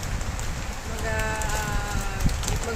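Rain falling at night, a steady hissing patter across the whole clip, with a faint tonal whine drifting in over the middle part.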